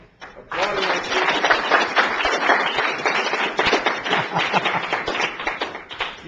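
An audience at a university lecture breaks into sustained, dense applause that starts abruptly and keeps up evenly, with some talk underneath.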